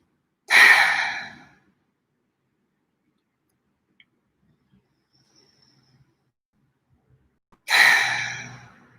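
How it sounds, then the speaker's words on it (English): Two slow, deep exhalations during a guided healing meditation, each a long airy breath out, close and clear, separated by several seconds of near silence with no speech. "And take a few more deep breaths."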